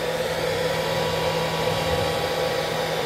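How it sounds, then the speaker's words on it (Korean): A hair dryer blows warm air to dry a rescued baby sparrow, producing a steady, even whirring hum with a constant tone throughout, close by and with no voices. "드라이기 말려줘."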